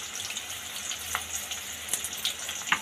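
Spices with chopped sour greens and tomato sizzle steadily in hot oil while frying for a mutton pickle, a continuous close crackle with occasional louder pops and stirring scrapes, no voices.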